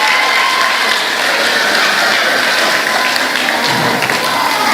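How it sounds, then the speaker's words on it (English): Sustained audience applause for the young participants at a primary school quiz event, loud and dense clapping filling the whole stretch with a faint crowd murmur beneath. "Let's have another round of applause for all of our participants this evening."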